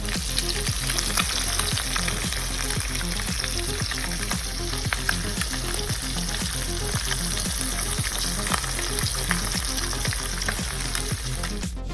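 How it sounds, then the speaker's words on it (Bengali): Two pieces of fish shallow-fried in oil in a wok for a quick fish curry give a steady, loud, close sizzle with faint regular crackles throughout and no voices. "আমি 2 পিস মাছ এখন কড়াই দিয়ে দিয়েছি"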